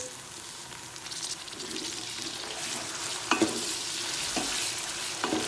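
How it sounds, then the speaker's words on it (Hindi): Onion and garlic sizzle steadily in a hot pan for aloo gosht, a potato and meat curry, with a few sharp clinks and scrapes of a spoon stirring through the continuous frying hiss. "ये मैं भी लहसुन डाल दी हूँ।"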